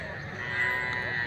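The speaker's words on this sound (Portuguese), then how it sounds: "Aqui, ó, galera, umas vacas aqui, 3 vacas aqui" Cattle lowing at a busy livestock market, the moo rising and falling once over about a second amid a steady bed of crowd noise and background chatter.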